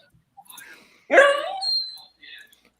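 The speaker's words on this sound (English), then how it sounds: "Oh, that's my dog." A pet dog lets out one loud, drawn-out whimpering whine in a room during a casual football chat. Softer breathy sounds come just before and after it.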